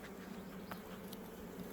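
Honeybees buzz steadily at an open beehive during hive maintenance, a continuous close, dense drone with a few individual bees flying past, no talking.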